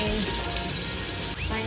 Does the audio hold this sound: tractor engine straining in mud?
no